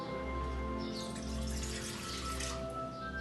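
Water and milk poured into a heated pot on the stove for mac and cheese, a steady running-liquid sound that continues close and moderately loud for the whole stretch.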